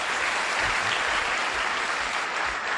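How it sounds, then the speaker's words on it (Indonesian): An indoor audience at a motivational business event claps steadily together, a dense, loud and continuous round of applause with no voices over it. "Tepuk tangan untuk Anda ya."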